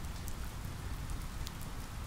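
Steady rain patters down through a thick forest canopy of branches, a soft, even hiss of drops with no voices.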